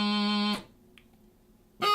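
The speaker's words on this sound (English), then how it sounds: "We're going to try a solitary low G doubling" Bagpipe chanter playing a low G doubling embellishment: a bright, reedy note sustains loudly for about half a second and cuts off, leaving near-silence before another note starts abruptly at the end.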